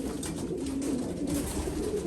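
Pigeons cooing inside a loft where hens and cock birds have been put together, soft low continuous coos close by with no talk.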